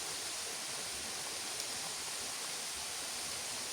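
Steady, dense rush of falling water at Curug Larangan, a waterfall along the Larangan river, a constant broadband roar with no pauses and no voices.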